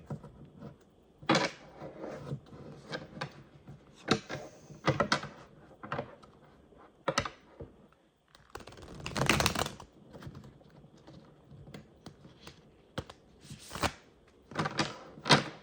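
Tarot cards are shuffled and handled up close in a series of crisp, irregular riffles and taps, with one longer flurry in the middle.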